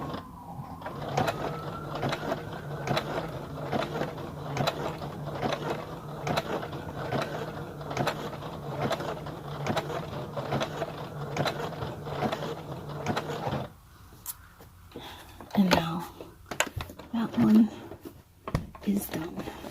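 A Brother sewing machine runs at slow speed stitching a buttonhole into a vest, a steady rapid mechanical whirring and clatter that continues for most of the stretch, then stops, leaving softer handling noises and brief speech.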